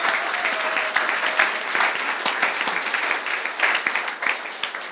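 A church congregation applauding in worship, dense steady clapping from many hands filling the room for several seconds.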